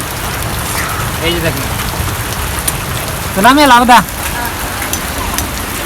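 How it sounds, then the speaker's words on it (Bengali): Heavy rain pours down in a steady, dense hiss of drops, with people talking over it partway through. "বৃষ্টি আইছে তো বন্ধুরা এই যে দেখেন কি অবস্থা বৃষ্টি পড়তেছে"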